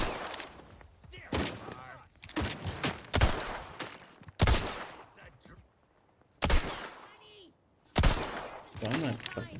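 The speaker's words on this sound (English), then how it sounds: "was that Valerie shooting the rock?" Repeated bursts of gunfire from Valerie shooting a rock in The Outer Worlds 2, loud, sharp cracks separated by short pauses, mixed with game effects and occasional voices in between.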